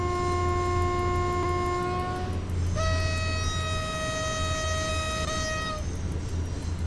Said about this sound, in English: So we're going to honk.